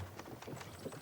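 A grey horse in a video game trots up after being called, its hooves clip-clopping in a quick steady rhythm, faint and mixed into a busy background wash.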